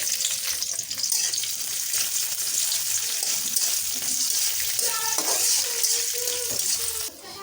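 Onions and green chilies frying in oil in a wok, a steady, loud sizzle with crackling bursts that runs the whole time, briefly quieter near the end.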